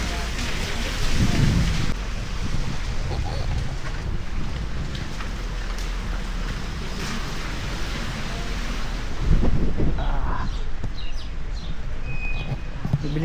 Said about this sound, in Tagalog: Lakas ng ulan, kanina pa to.